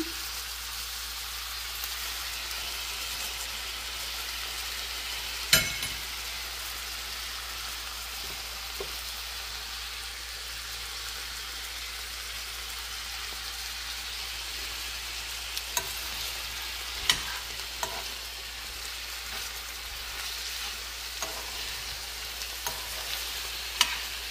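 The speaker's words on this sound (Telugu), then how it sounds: "జింజర్ గార్లిక్ అండి కొంచెం బాగా వేగితే మంచి ఫ్లేవర్ వస్తుంది" Ginger garlic paste frying in a pan, a soft, even sizzle with occasional clicks of a spoon against the metal, faint and steady for the whole stretch with no voices.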